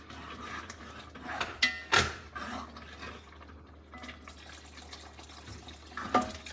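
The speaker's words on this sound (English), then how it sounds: "So I will add a little bit of more water just to give it a little bit soupy texture." Water poured into a pot of black gram and kale soup, a soft continuous liquid trickle with a couple of brief splashy surges, close and moderately quiet.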